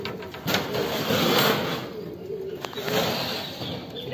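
Argentine buchón pigeons in a San Justo loft give soft, low cooing calls amid a busy, noisy room ambience, moderately close.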